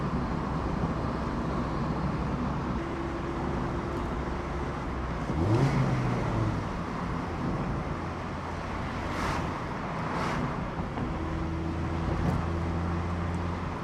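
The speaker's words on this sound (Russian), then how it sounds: "Очень хорошо здесь слышен звук мотора" A Mazda MX-5 roadster engine hums steadily while the open-top car drives slowly through the city across a bridge, a continuous low drone with road and wind noise and a brief swell in revs midway.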